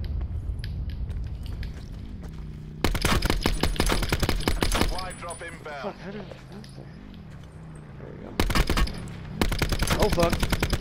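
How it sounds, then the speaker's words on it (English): Rapid bursts of gunfire in an online shooter game ring out in loud dense volleys, pausing between them, while players talk excitedly over the shots. "I just got sniped at"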